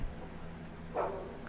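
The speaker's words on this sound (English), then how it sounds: "Dog barking." A single short, muffled dog bark from a Payday 2 video game sound file sounds faintly about midway through a quiet, hum-filled background.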